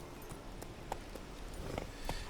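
Horse hooves clip-clop at a steady walking pace in the video game The Witcher 3, irregular soft knocks over a noisy rustling background, moderately faint.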